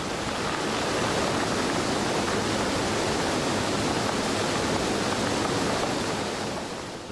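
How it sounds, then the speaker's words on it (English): Torrent of river water pouring through the breached Marmot Dam as a new waterfall, a loud, steady, broadband roar of rushing water that holds constant throughout with no voices. "The notch becomes a full-fledged waterfall."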